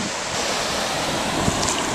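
Ocean waves wash steadily onto a windy beach, with a loud, continuous roar of surf and wind buffeting the microphone throughout, and no talking.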